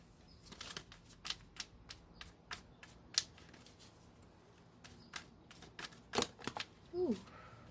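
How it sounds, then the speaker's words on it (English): Soft riffling and snapping of tarot cards being shuffled, in quick irregular bursts with a few sharper slaps, close by in a quiet room. "I'm so not used to shuffling on camera because it just takes me so long."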